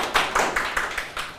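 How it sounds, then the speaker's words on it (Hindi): Classroom clapping from students, a handful of sharp claps in an uneven rhythm, fairly close and moderately loud with no talk over it. "तालियां बजा रहे हैं।"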